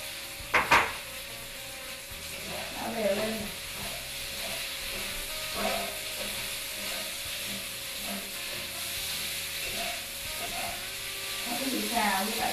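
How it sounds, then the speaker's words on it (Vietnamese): Shredded seitan with seasoning is stir-fried in a pan with golden fried shallots, a soft steady sizzle under intermittent stirring scrapes, with a voice talking at times. "Nó cứ bị xào như vậy cho đến khi nào mình căng nó săn lại quý vị."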